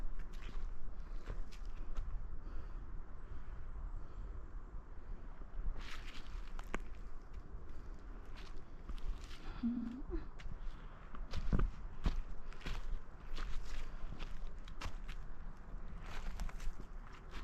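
Footsteps of a lone hiker walking through a forest carpeted with yellow and orange leaves, soft repeated crunching and rustling steps with a couple of sharper snaps, fairly faint over quiet outdoor ambience.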